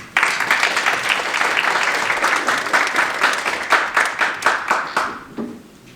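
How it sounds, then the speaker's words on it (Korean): Loud, dense applause fills a hall at a youth counselling centre's annual report event as the chief executive is welcomed forward, the clapping strong and steady before tapering off near the end. "큰 박수로 대표이사님을 앞으로 모시겠습니다"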